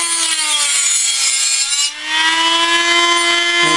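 A hand saw cuts through wood in steady back-and-forth strokes, a close, loud rasping with a brief dip in the middle of the stroke.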